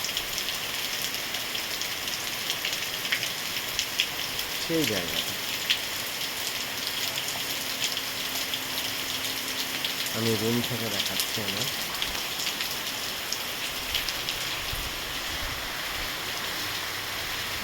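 Steady rain pours outside a room, a dense, even hiss that lasts throughout, with a person speaking briefly over it midway.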